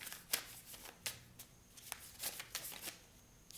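Tarot cards shuffled by hand in a quiet room, a steady run of soft riffling flicks and papery slaps, close and fairly faint, with no talk.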